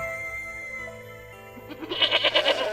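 Sheep bleating close by in a quick series of wavering calls after a quiet, faintly humming stretch, with no voices.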